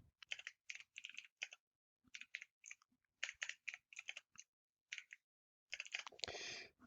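Code being typed on a computer keyboard during a lecture on arrays, with bursts of quick close key clicks separated by short pauses and ending in a denser run of keystrokes.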